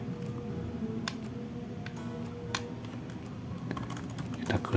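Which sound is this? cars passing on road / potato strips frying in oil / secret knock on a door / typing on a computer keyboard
typing on a computer keyboard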